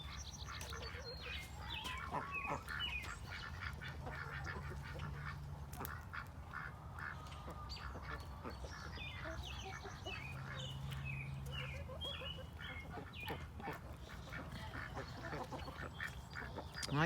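Ducks quack in scattered bursts on a homestead with chickens, over a steady outdoor hum, with other birds chirping faintly in the background.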